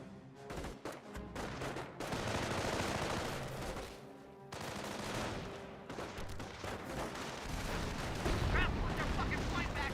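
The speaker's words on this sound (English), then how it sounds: "Massive hit there by the mortar" In the World War II strategy game Company of Heroes, a mortar shell lands amid battle noise, with rattling gunfire and repeated booms. The thuds and crackling run through the whole stretch with a brief lull near the fourth second.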